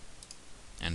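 A computer mouse clicks on points in measurement software, with two quick faint clicks early and a louder burst near the end, alone without talk.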